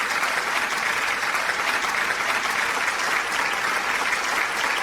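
A crowd at a live televised music show applauds for a performer, a steady dense wash of clapping that holds evenly throughout without talk.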